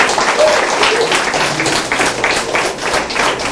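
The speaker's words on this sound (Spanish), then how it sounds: "Dale un aplauso." A church congregation breaks into brief, loud applause during a sermon, a dense burst of clapping lasting a few seconds with no talk over it.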